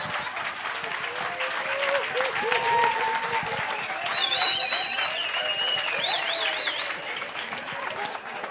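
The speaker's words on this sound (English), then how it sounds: "Please give me a big round of applause." Steady, loud applause fills a workshop audience room, a continuous patter of many hands with scattered whistles and cheers rising over it.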